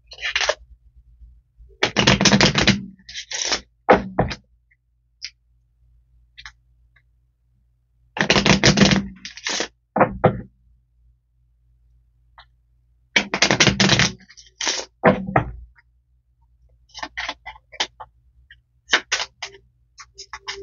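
Tarot cards being shuffled by hand, a stiff deck that resists: three bursts of riffling and flapping card noise, each a second or two long, separated by quiet pauses, with softer scattered taps and slides toward the end.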